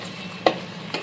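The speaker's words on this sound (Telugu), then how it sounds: "ఉల్లిపాయలు, పచ్చిమిర్చి వేసి కలుపుకోవాలి" Onions and green chillies fry in a pan with a soft continuous sizzle, broken by two sharp scraping stirs of a spoon about half a second apart.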